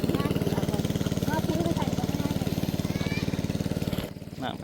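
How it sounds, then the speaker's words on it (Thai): A small water pump engine, faltering, chugs steadily and loudly up close, a rhythmic pumping drone that drops off abruptly near the end, while irrigating a rice paddy. "ยังเร่งสูบน้ำอยู่ตอนนี้"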